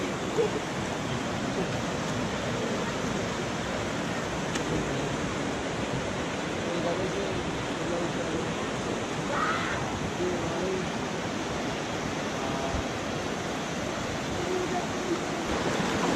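Small river near Telos village in Battagram, with children bathing in the water, flowing in a steady, broadband rush that continues without a break, and faint bird calls in the background.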